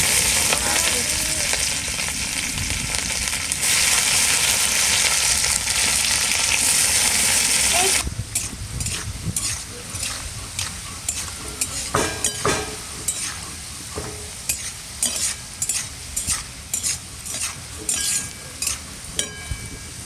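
Beans fry in a pan with a dense sizzle, then the hiss thins out as repeated clatters and scrapes of stirring take over.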